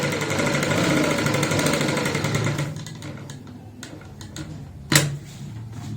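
A sewing machine stitches fabric for a garment neckline, a fast continuous mechanical whir for about two and a half seconds before stopping, followed by quieter handling clicks and one sharp knock.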